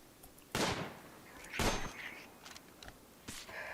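Two sharp gunshots fired at a rabbit in the game Rimworld, loud, close and about a second apart, followed by a few fainter pops and clicks.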